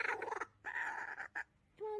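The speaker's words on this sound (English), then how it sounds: "The one on the right is a kookaburra." A kookaburra calling in a rough, raucous series of chattering bursts and a final drawn-out note, close and fairly loud with brief gaps between phrases.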